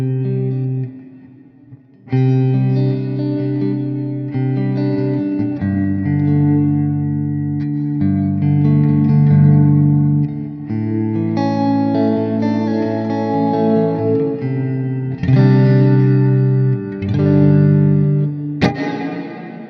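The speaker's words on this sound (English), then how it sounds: "So this is going to be like a really big sounding reverb" A Blackstar ID:X 50 guitar amp plays sustained chords through its cathedral reverb setting, loud and washy with long ringing tails, the chords shifting every couple of seconds with no voice.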